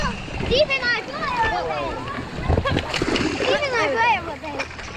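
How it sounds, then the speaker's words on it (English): Water splashes and sloshes around a family raft as it finishes a ride at the Blizzard Beach water park, with children's voices chattering loudly over the splashing throughout. "there's these little holes here for the water, and now there's water everywhere"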